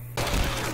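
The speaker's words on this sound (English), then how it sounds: "I think a machine gun will be best suited for this kind of situation" Machine gun fire in Left 4 Dead 2 erupts suddenly after a brief quiet moment, a loud dense burst of rapid shots that continues to the end.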